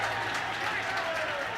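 Penrith supporters at a 1988 rugby league match against North Sydney give a steady crowd applause, a distant wash of clapping under a commentator's voice throughout.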